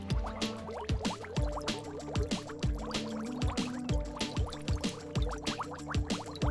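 Saliva smeared over the leaking valve of a moped tire bubbles and pops in a steady, close-up stream of small wet blips and squelches, with no talking.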